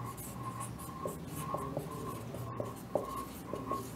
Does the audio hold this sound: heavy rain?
no